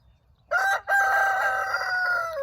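A rooster crows loudly and close by, one drawn-out call with a brief break near the start, standing alone against quiet background.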